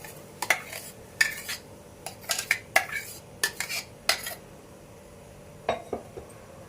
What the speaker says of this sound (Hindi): अब इसमें डाल देते हैं ये जो आम का पल्प हमने तैयार किया था ना, निकाला था, इसको इसमें डाल देते हैं।